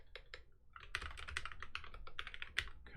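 Fast, uneven key clicks from a new computer keyboard during programming work on a deployment, close and fairly quiet, with bursts of taps and brief pauses and no talk.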